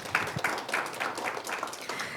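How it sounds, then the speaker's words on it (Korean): Audience applause rings out at a policy forum on creating a walkable Culture Hall street, held in a Gwangju city council venue: a steady patter of many hands clapping, moderately loud and unbroken, with no voices over it. "참석하신 분들을 향해 다시 한번 뜨거운 박수 부탁드립니다"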